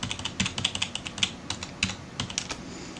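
Typing on a computer keyboard while entering a password, a quick irregular run of sharp key clicks heard close up with no talking.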